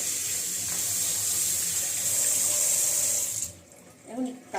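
Tap water runs steadily from a kitchen faucet while a Faber range hood filter is washed, a loud continuous rush that cuts off near the end, followed by a brief voice.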